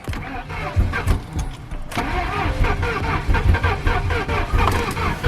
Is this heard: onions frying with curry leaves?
no